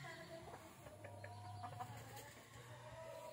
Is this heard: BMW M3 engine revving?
no